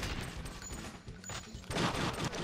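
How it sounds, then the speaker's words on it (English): Rapid bursts of gunfire in the video game True Crime: Streets of LA, quiet and slightly distant, a short crackling volley that intensifies toward the end. "Just keep shooting him in the dick."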